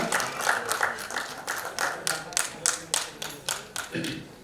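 An audience applauds as a singer is welcomed onto a stage at a celebrity award event, steady clapping rising in distinct swells with a voice talking over it.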